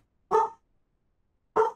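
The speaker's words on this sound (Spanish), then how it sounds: "Mi perra ladra ahora." A dog barks twice, well apart, each one a short, clear, fairly close bark against silence.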